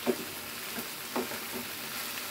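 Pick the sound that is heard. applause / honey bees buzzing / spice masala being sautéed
spice masala being sautéed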